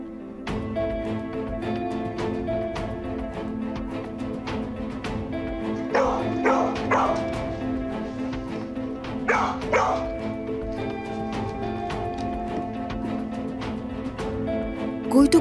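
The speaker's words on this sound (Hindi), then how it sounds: "कोई तो गड़बड़ जरूर है, वरना डोडो उस तरह भौंकता नहीं" A dog barks repeatedly in short, sharp yaps and yips, clustered in bursts over a steady background score, fairly close and loud, with a whimpering quality at times.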